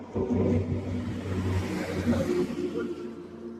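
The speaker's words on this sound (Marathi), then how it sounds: "पूर्ण हालतोय. हा ट्रक गेला म्हणून." A truck passes close by on a road with a rising, then fading engine rumble and whir that fills the few seconds, with a hint of a voice underneath.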